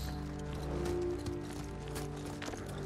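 Rhythmic hoofbeats of a battered horse moving at a steady pace in the video game Ghost of Tsushima, with a constant background hum.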